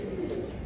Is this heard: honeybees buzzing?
no